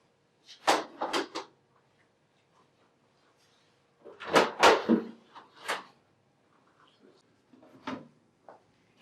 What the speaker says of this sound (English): Then remove the drip tray and the waste bin.